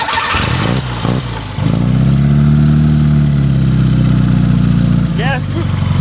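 A 1972 Fiat 850 Sport Spider's small engine cranks and catches, then settles into a steady, loud idle close by, with a brief rev near the end and people talking over it.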